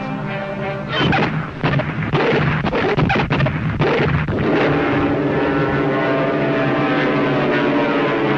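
American propeller dive bombers roar overhead as a steady loud engine drone, with muffled blasts and rumbling in the first half, in an old animated Superman cartoon.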